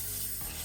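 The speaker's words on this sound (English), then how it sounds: "Next, spray a small amount of WD-40 into the same bowl." Aerosol WD-40 sprays from a can into a bowl that already holds shaving cream, a steady broadband hiss lasting under a second, fairly loud and close with no voices.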